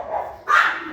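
Dogs barking in a short burst, the yaps fairly close and loud, rising sharply midway and carrying to the end with no talk over them.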